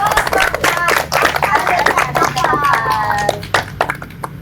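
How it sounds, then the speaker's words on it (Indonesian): Ninth-grade students in a school podcast setting clap their hands in a loose, uneven burst of sharp, close claps, with voices talking and calling over the clapping. "Coba kita tepuk tangan"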